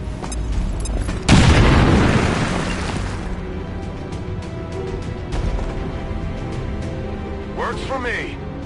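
A loud explosion in XCOM 2 bursts in with a heavy boom and a long rumbling decay, then the scene settles into quieter ambience with a few clicks and voices.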